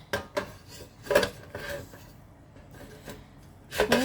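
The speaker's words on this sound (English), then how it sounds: "just put this on top and then you have your griddle" An Ozark Trail griddle plate set onto a butane burner: a few metallic clanks and scrapes, close and moderately loud, with quiet handling between them.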